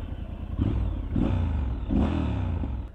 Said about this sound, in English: Beautiful sound coming through the pipes.